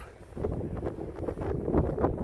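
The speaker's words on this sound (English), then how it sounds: "the wind is pretty rough here" Strong wind buffets the microphone as a Vcoptr Falcon drone tracks and follows from 18 meters up, a steady rough rumble with irregular gusts and no talk.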